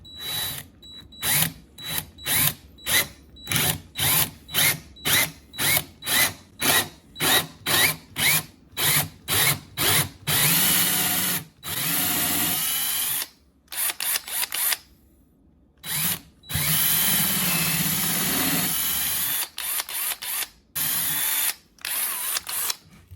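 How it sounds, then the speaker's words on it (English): A power drill bores into the center of a short piece of tree branch in a series of loud, close bursts, then runs in longer continuous stretches with brief pauses between. "we're just gonna drill right into the center"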